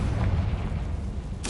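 A Confringo explosion spell goes off in a Harry Potter video game, a deep booming blast rumbling low throughout with a sharper burst near the end.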